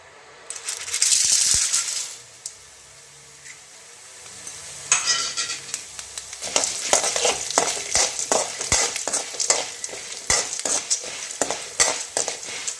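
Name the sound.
urad dal and chana dal frying in a pan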